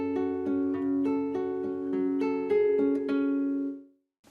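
Classical guitar alone, played close and clean, picking out a steady repeating arpeggio pattern from Koyunbaba's third movement for about four seconds before the notes ring out and stop.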